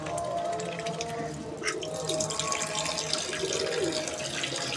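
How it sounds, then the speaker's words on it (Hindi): Water is poured out for ducks into a container, a steady trickling and splashing stream heard up close for several seconds with faint background sounds. "पानी जो है डक्स को शुमैसा डालती है, तो आज जो है मैं डाल रही हूँ"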